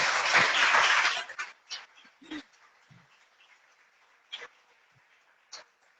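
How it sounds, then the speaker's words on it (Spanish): Congregation applause in a church at a women's gathering, a dense burst of clapping for about a second that quickly thins into a few scattered claps trailing off. "¿Cuánto le da un aplauso al Señor?"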